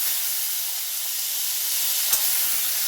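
Tomatoes sizzle in hot oil for mint tomato chutney, a steady bright hiss running throughout with one sharp crackle near the end.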